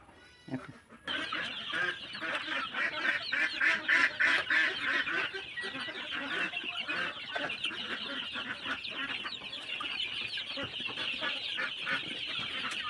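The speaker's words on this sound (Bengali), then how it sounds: "দেখেন আমি মুরগি দেই কি সুন্দরভাবে খায়।" Chickens cluck and squawk in a busy flock feeding on a poultry farm, many birds calling at once in a continuous chatter, close by with no talking.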